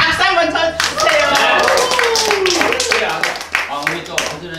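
Clapping from an audience at a Korean humor talk, heard under a man's loud, continuous speaking, with bursts of hand claps mixed through the talking.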